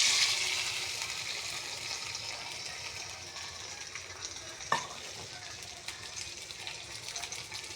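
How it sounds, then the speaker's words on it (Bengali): An egg cooks in a dry pan with no oil, giving a soft, steady sizzle and light stirring scrapes, fairly quiet, with a brief clink near the middle. "ডিমটা দিয়ে দেবো, আমি তেল ছাড়াই করবো।"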